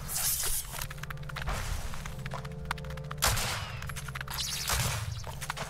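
Gunshots in the space-western strategy roguelike Wild Bastards, with several loud close bursts and sharp blasts separated by whooshing effects and lingering game ambience.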